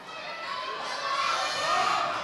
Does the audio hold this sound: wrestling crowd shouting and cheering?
yes